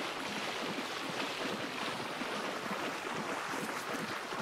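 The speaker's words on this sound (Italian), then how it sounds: "Vi sento poco, c'è l'acqua rumorosa." Rushing, noisy water in a video game about hunting crocodiles, a steady broadband wash like surf or wind that fills the whole clip at a constant level with no talk.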